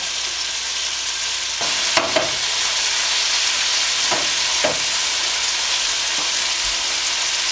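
Chicken pieces, small but thick, frying in a hot pan, giving a steady close sizzle with a few sharper crackles and pops scattered through.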